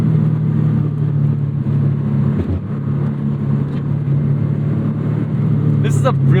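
2001 Subaru Impreza 2.5RS (GC6) all-wheel-drive sedan under throttle, its engine a steady, loud drone with broad road and wind noise, while someone talks over it.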